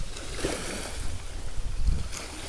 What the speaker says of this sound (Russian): Вон лодочка плывет.